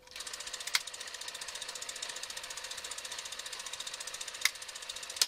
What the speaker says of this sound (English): it should make a clicking sound